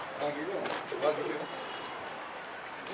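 A pigeon returns to a coop at sunset and gives a few soft, low coos that sit faintly within quiet outdoor background noise, with a couple of louder calls near the start.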